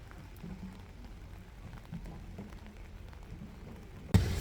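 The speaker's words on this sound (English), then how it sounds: "I'm really getting rained on" Steady rain falls outdoors on a Geneva street, a continuous soft hiss of drops on surfaces with no talking, and a sudden louder burst of noise near the end.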